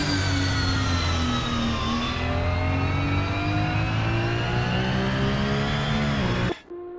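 A Porsche 992 GT3 Cup engine on a practice out lap in Assetto Corsa at Imola roars close and loud at sustained high revs, its pitch climbing steadily before it cuts off abruptly near the end.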